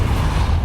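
A Depulso spell in Hogwarts Legacy pushes a mechanism, giving a short, close, steady grinding rumble with a faint creak throughout.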